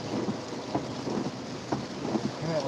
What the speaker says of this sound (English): Moderate rain.